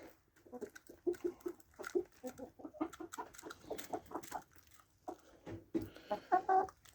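Backyard chickens clucking close by, a run of soft irregular clucks and murmurs with a few sharper calls near the end, fairly quiet and with no talking over them.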